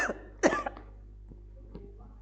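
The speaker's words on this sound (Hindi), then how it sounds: "अब मेरे खांसी आएगी।" A teacher coughs twice in quick succession, the second burst louder and harsher, followed by faint throat sounds in a quiet room.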